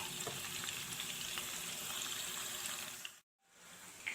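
Spices sauté in hot oil in a pan for an eggplant pecak with coconut seasoning, a steady soft sizzle with light crackles that cuts out briefly near the end, with no voices.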